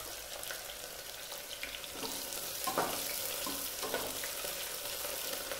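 Chopped garlic, dried red chillies, green chillies, mace and garlic greens frying in hot oil for mutton masala, a steady soft sizzle with a few stirring scrapes, fairly quiet and without talk.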